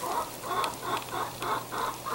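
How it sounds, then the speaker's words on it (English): Several chickens cluck in short repeated bursts close by, a busy rhythmic chatter over a low background hum. "Talkative chickens."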